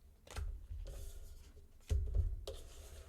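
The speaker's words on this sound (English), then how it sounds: "Let me shuffle the cards." Brisk papery riffling of tarot cards being shuffled in a few short bursts, with softer rubbing and card handling between them, close up and with no voices.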